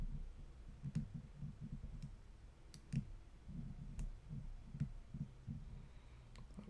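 Lock pins click faintly while a Master Lock No. 3 padlock is picked, a scattered series of small, close ticks over a low, steady background hum.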